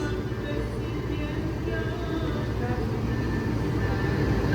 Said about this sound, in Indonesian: Ini kereta yang akan membawa aku menuju ke Solo tiba, yaitu kereta api Malioboro Express